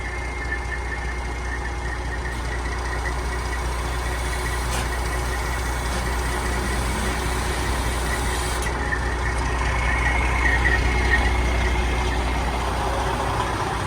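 A Freightliner Classic truck idles with a loud, steady low diesel rumble while its cab is tilted up by a lever, with faint clicks and a brief hiss partway through and a slight rise in engine noise near the end.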